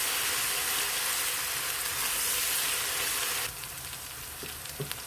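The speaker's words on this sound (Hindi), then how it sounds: "इसको भी हल्का सा बस हम फ्राई कर लेंगे।" Steady, loud sizzling of garlic and ginger frying in hot oil, with a drop in intensity partway through and a few faint clinks near the end.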